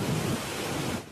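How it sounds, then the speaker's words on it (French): A heavy rain downpour pours over Paris during a thunderstorm with strong gusts, a dense, loud, unbroken roar of water. "c'est un véritable déluge qui s'abat sur la capitale"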